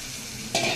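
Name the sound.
water added to frying bottle gourd curry, sizzling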